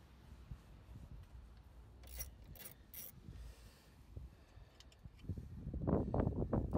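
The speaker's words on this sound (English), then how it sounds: "I'm going to take the coil pack off so that I can get to the rocker cover bolts under here a lot easier" A coil pack is worked off a BMW 318is E36 engine, with close rubbing and scraping, a few sharp clicks, and louder rattling handling noises toward the end.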